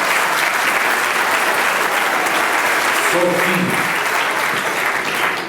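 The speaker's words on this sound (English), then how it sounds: "one more round of applause" Sustained audience applause at a professional services awards ceremony, a dense, even roar of clapping filling the whole stretch while a single spoken word briefly cuts through.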